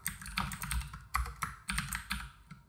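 Fast, irregular clicking of keys on a computer keyboard, close and fairly quiet, with bursts of keystrokes and short pauses, no voices.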